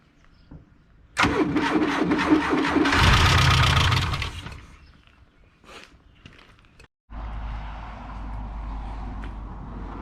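A Black Rampage engine cranks and catches after a brief click, roaring loudly for a few seconds before dropping off, then after a moment of silence settles into a steady, rough-sounding idle; the engine sits with a disconnected filter and may have been stored a long time.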